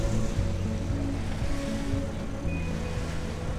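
Boat travelling onto the Tonlé Sap River near Phnom Penh, Cambodia, a steady low engine drone with water wash and faint hum, fairly close and continuous without talk.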